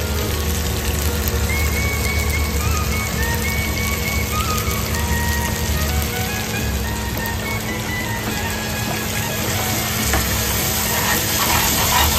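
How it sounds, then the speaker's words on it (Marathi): Oysters pan-frying on a flat iron tawa, a loud, steady crackling sizzle with occasional stirring scrapes, continuous throughout with no talking. "शेवटचा हात मारून आपण ती तशीच थोडा वेळ शिजत ठेवणार आहोत"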